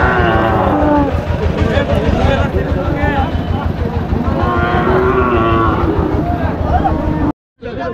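Cattle low and moo repeatedly at a livestock market where cows are being bought, loud and close, with long drawn-out calls over steady crowd noise and a voice talking throughout.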